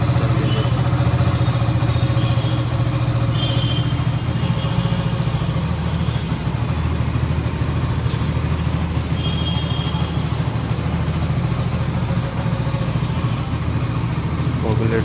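A motorcycle engine drones steadily and loudly while riding, with a low, even hum and rushing wind noise running the whole time and no breaks.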